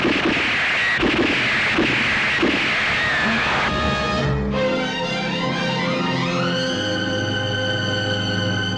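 Gunfire in a Telugu film court scene: a burst of sharp, loud shots over a dense, noisy din for about four seconds, then sustained dramatic music swells and takes over.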